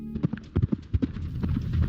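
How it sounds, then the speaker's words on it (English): A dog gallops heavily toward a cattle guard: quick, uneven thudding footfalls close by, bunching into rapid beats and building to a denser patter. "Turns out that heavy galloping was just Charlie trying to race by Mom and beat her to the cattle guard"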